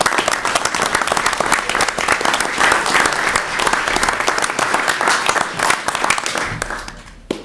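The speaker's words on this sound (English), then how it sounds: "and I'd like us to applaud." Staff in a state senate chamber receive a round of applause, loud continuous clapping from many hands close by that carries on evenly and then fades at the end.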